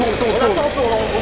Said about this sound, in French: maintenant qu'on est complètement bourré, on va utiliser une tronçonneuse